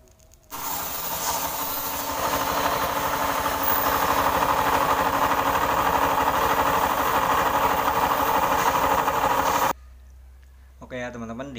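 A Honda Scoopy ESP scooter engine runs with a rough, whining noise. It is loud and steady for about nine seconds, then cuts off abruptly, and a brief voice follows.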